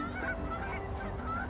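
A flock of snow geese and greater white-fronted geese honking in a continuous chorus, many birds at middle distance calling over one another, in a Nebraska blizzard.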